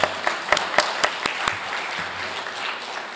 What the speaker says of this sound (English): I think this also deserves an additional round of applause.